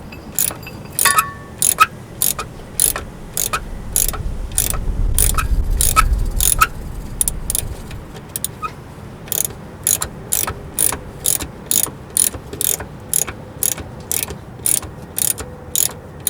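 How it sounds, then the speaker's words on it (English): A wrench extended with a pipe loosens rear axle bolts on a Jeep Grand Cherokee WJ, producing crisp, evenly spaced ratchet clicks in a long close series, with a brief low rumble partway through. "I'm going to use the pipe on top of the wrench"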